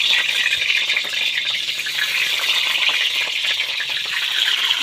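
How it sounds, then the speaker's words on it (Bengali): An egg frying in hot oil in a pan, a steady close crackling sizzle holding evenly throughout without pause, with no voices. "ডিমটা ভেজে নিচ্ছি।"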